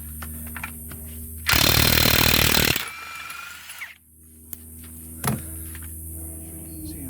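Ridgid cordless impact wrench taking the lug nuts off a tire during a quick roadside change, a loud dense hammering burst of just over a second, followed by quieter handling noises.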